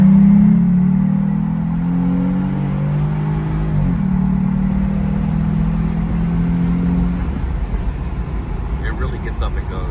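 Jeep Gladiator with an S&B cold air intake accelerating: a loud low engine drone rises and falls in pitch over several seconds, then settles into road rumble with faint clicks at the end.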